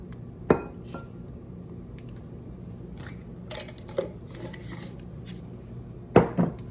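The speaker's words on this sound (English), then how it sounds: "Just gonna give that a quick stir. I'm just using my measuring spoon." A measuring spoon stirring dry baking ingredients, including baking powder and salt, in a bowl, with a few sharp clinks against the bowl over soft scraping and rubbing and no talk.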